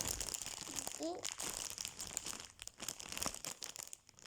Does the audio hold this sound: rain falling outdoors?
no